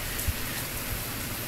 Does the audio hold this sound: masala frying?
no